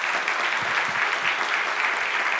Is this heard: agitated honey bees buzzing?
no